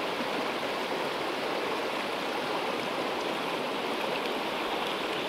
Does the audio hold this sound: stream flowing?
yes